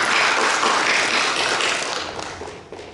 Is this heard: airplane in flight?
no